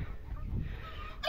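Black Australorp chickens in a flock with several roosters and hens, faint clucking and fowl calls nearby, ending in a louder, sharper call.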